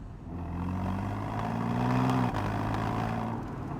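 A Porsche Boxster 981 GTS in sport mode drives at low speed with a steady, gruff engine drone. One rising rev swells, then drops as the car shifts and carries on at an even pitch. No talk over it.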